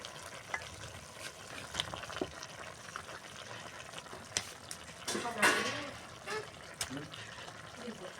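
Fish frying in a pan with taro, a steady low sizzle with scattered pops and a stronger burst of spitting oil midway, some stirring clatter mixed in.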